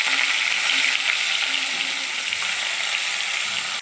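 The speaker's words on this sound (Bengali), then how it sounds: "মাছগুলো আমি দিয়ে দিলাম ভাজার জন্য।" Rohu fish fry in hot mustard oil in a wok, a loud, steady, close sizzle that crackles without pause, with no voices.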